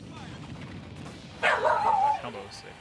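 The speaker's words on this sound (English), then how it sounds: "Uh-oh, dog's getting excited." A dog barks and yips excitedly in a short burst partway through, loud and close against a steady background hum, with no speech in between.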